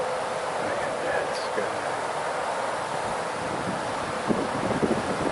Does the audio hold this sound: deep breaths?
no